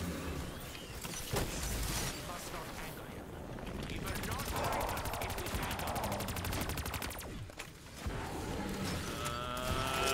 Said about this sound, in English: Feel free to spray ammo.